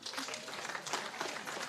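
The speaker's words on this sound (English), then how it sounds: "You want to clap for us?" Audience clapping at a project launch lunch, a dense, steady patter of many hands filling the short span, with faint voices mixed in.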